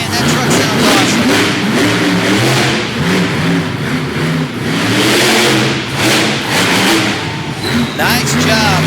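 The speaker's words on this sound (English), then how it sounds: "Michael Waters comes out flying. That truck sounds awesome." A monster truck roars at a Topsfield, Massachusetts event, its engine revving hard and loud throughout with rising and falling pitch while an announcer talks over it.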